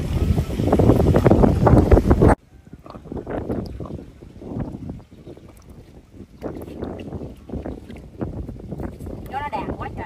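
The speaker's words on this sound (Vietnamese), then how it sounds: "Quá trời gió. Gió mạnh luôn á" Strong wind buffets an open boat on the water during net fishing, roaring loudly into the microphone at first, then continuing as a gusty rush beneath men's conversation.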